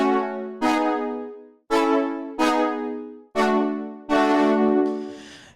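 A bright, layered synthesizer riff plays alone in five sharp, decaying stabs with short gaps, the final note sustaining and shimmering.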